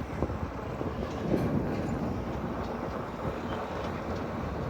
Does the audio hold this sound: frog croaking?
no